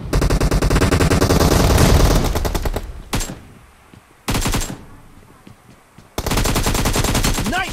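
AKM assault rifle fire in a team-match shooter game: loud rapid automatic bursts, a long stream at first, then short separate bursts with quieter gaps between them.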